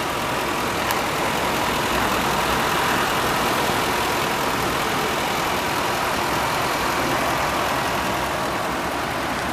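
A 2006 Ford E-350 Super Duty van's 5.4 Triton V8 engine idles steadily nearby, a smooth, even rumble with a broad hiss on top, unchanging and without voices.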